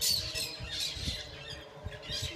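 Repeated squawks from a maritaca parakeet (a green and black parrot-like bird) near an apartment, several harsh calls in an irregular rhythm over a low background.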